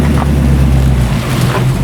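AK427 Cobra replica engine running with a loud, steady low rumble that stays constant and close throughout, with no separate starter crank standing out.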